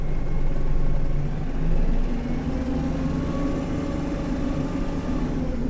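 A Kubota KL-33 mini tractor engine runs at top speed, a loud continuous low diesel drone with steady harmonic hum that eases slightly after a brief swell, alone without talking.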